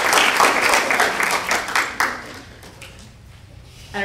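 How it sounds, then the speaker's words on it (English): An audience at a student college presentation event applauds in a dense burst of clapping that fades over a few seconds. "Give a round of applause for them."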